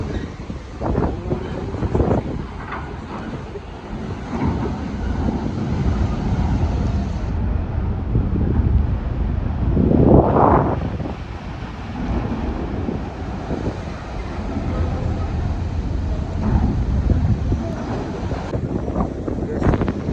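Strong gusting wind roars across the microphone at Merak harbor in rough weather, with churning sea noise beneath, loud and continuous, while people talk at times over it.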